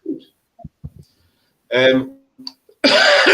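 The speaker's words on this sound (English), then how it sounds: "excuse me, I've had this cough for 3 weeks" A few close, sharp coughs from a lingering three-week cough break through short bursts of nearby talk at Stump Cross Caverns, with quiet gaps in between.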